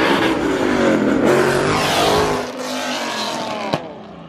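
Ford Boss 302 car accelerating hard at a street racing event, a loud, sustained roaring engine close by with rising pitch, easing slightly before a brief sharp burst near the end.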